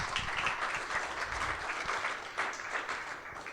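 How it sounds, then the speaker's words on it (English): An event audience gives a round of applause for a guest speaker, a steady wash of many hands clapping at moderate distance, continuous without pause. "Give him a round of applause."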